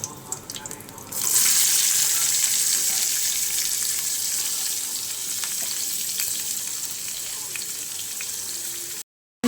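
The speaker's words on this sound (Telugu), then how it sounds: "ఫ్రై అవుతున్నాయండి ఇవి కొంచెం లైట్ బ్రౌన్ కలర్ వచ్చే వరకు ఫ్రై చేసుకుందాం" Green chillies fry in hot oil in a pan for a brinjal and tomato curry, a steady loud sizzle starting abruptly after a quiet second and crackling on without pause until a sudden cutoff near the end.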